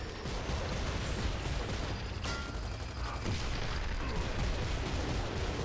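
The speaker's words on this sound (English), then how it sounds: "He keeps, like, shooting the wall." Gunfire in the video game Gears of War 2, a steady barrage of shots and booms that runs continuously at moderate loudness, with one sharper crack partway through.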